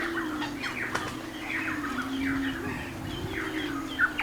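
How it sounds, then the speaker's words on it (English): A Torresian pigeon calls on the Low Isles, a coastal island nesting site, over a low, steady background drone. Repeated short calls come from nearby, with a few sharper notes scattered through. "this pigeon migrates from Papua New Guinea to the Low Isles to nest"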